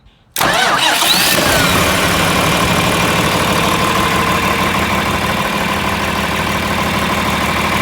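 A John Deere 4020 tractor engine cranks on a new starter and catches almost immediately, then settles into a steady, loud, rumbling idle that continues without a break.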